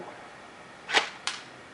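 Two sharp snapping shots from an AK-47 airsoft rifle, spaced about a third of a second apart, crack out fairly close over a quiet outdoor background.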